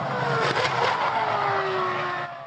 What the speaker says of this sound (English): So we've just got to get the engine to spin faster